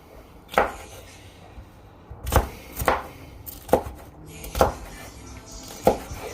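Green vegetables are sliced with a knife on a board for beef goulash, giving about seven sharp, close chopping knocks spaced irregularly with quiet pauses between them.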